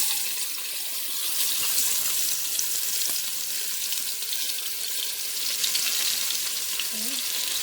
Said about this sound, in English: now we're going to add our onions